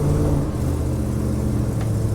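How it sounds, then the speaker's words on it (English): A car doing a burnout launch across a lawn, loud continuous engine rumble and revving close by, with no talk. "Sorry about the lawn, bro."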